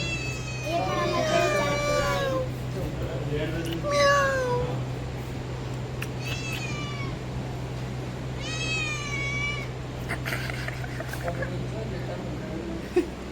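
A cat meows several times in drawn-out, rising-and-falling calls, up close over a constant low hum, with people talking nearby during the meows.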